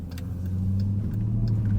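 A 2024 Dodge Durango Hellcat pulls away from a stop in eco drive mode, its engine a steady low, rising rumble heard from inside the cabin with faint ticking clicks above it.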